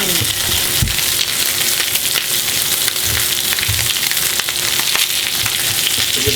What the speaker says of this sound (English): Give that a good sear, and I'll add the vegetables.